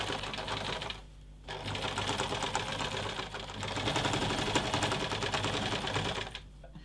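A sewing machine stitches an apron dress in fast, even bursts, its rapid mechanical chatter running close and loud with a short pause near the start and stopping at the end.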